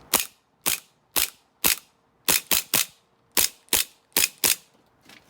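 Slide of an Army Armament R603 airsoft Hi-Capa pistol worked with no BBs loaded, giving about a dozen sharp, close metallic clacks in an uneven rhythm, some in quick pairs, with no voices.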